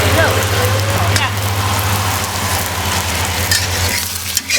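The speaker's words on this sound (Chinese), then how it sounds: "现在下入这个肉，炒一下" Pork stir-fried in hot, pre-heated rapeseed oil in a wok, a dense steady sizzle with scraping stirs throughout, close and loud, with a low hum underneath.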